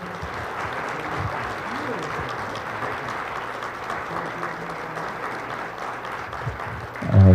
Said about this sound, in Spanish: Con el aplauso de todos ustedes, por favor